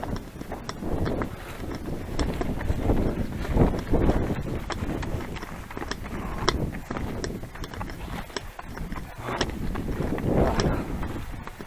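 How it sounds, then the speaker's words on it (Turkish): Strong gusting wind on a trail running route near Manavgat roars and buffets against the microphone continuously, with rough rumbling surges and scattered clicks, no voices. "rüzgar etkili geliyor."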